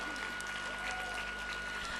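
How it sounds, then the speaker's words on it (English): Audience applause welcoming the Minister of Railways at a women's plenary event, a steady dense clapping that fills the hall for the full two seconds with no voices over it. "Please welcome him with a warm round of applause"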